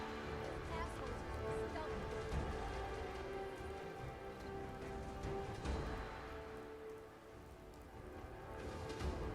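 Steady rain falls across the outdoor wasteland in Fallout 4, a dense, continuous hiss of drops on surfaces, with game music tones and a voice talking over it throughout.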